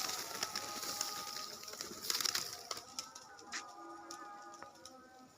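Pigeons at a loft come out for feed after rain, giving soft cooing and brief wing flutters and pattering close by, with light scattered clicks and rustles.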